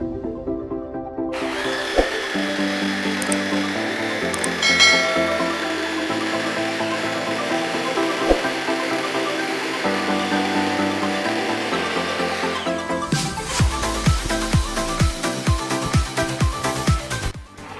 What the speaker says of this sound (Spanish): Para realizar el corte a nuestra llanta de automóvil, vamos a utilizar una sierra caladora, ya que esta llanta generalmente trae alambres